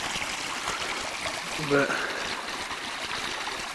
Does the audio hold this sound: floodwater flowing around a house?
yes